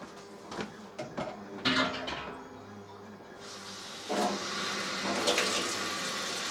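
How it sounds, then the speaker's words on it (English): Water runs from a hose into a 55-gallon sugar syrup mixer barrel for honeybees, starting after a few clunks and handling knocks, then rising into a steady, close rushing hiss that fills the barrel. "All I got to do is turn the hose on now"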